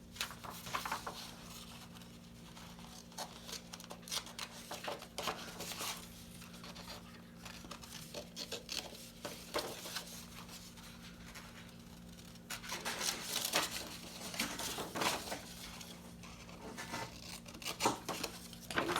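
Paper being cut into triangles for a 6x9 envelope on a punch board, a string of faint close snips and crisp rustles at an uneven pace, louder toward the end, with a low steady hum behind.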